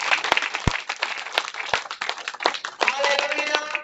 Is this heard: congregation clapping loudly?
yes